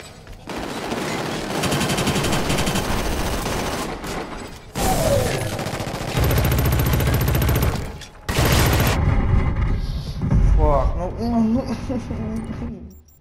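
Gunfire in a Killzone Shadow Fall multiplayer match: loud, close bursts of rapid automatic fire in several long volleys with a few thuds, while someone speaks over the action.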